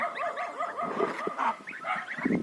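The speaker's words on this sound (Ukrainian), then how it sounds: "Тільки що собака якась забігла, Назар позакривав." A dog barks repeatedly in quick, yappy bursts nearby in a village yard, mixed with honking, gobbling calls from ducklings and goslings in the background.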